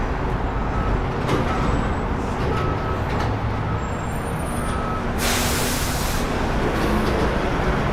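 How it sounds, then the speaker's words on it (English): A garbage truck works on a busy New York City street between Brooklyn and Manhattan. Its steady engine rumble blends with traffic noise, then a loud, sharp air-brake hiss bursts out for about a second. "Here's a garbage truck for you."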